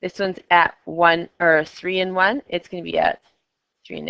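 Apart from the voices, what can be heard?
None of the usual background noises is heard.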